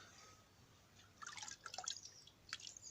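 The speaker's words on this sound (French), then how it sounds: "le laissez bien s'égoutter pour pas qu'il y ait d'excès d'eau" Water dripping from a soaked tomato seedling as it drains after soaking, a quick scatter of small close drips and trickles, faint and quiet, no talk.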